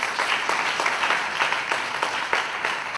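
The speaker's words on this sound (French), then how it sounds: "je vous prie de l'applaudir très fort" An audience at an awards ceremony applauds steadily, a dense wash of clapping with a few rhythmic surges, before it cuts off abruptly.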